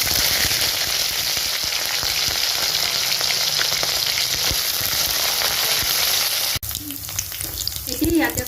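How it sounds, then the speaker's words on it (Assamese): Dried sea fish, Bombay duck, fry in oil in a wok with a loud, dense, continuous sizzle that drops off abruptly near the end to a quieter crackle. "মই কেৰাহীত তেল দি লৈছো। এতিয়া মাছখিনি ভাজি লম।"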